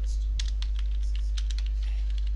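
Someone types on a computer keyboard, a burst of quick clicky keystrokes over a steady mains hum, close by and irregular in rhythm.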